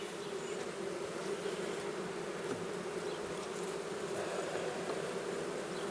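Honey bees buzzing around hive frames and bridge comb at a farm apiary, a dense steady hum of many insects close by with no pauses.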